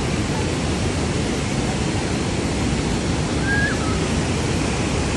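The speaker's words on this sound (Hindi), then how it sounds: "बाणगंगा में डुबकी मारने जा रहे हैं हमारे आज भैया" Rushing water of the cold Banganga river on the Vaishno Devi trek fills the scene as a steady, loud broadband wash, with no distinct individual splashes standing out and no talk.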